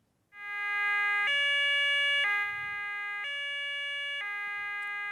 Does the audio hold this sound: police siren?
yes